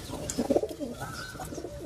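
Several female pigeons coo softly in low, throaty warbles in an indoor coop, with one burst of cooing louder and closer than the rest, and no talking.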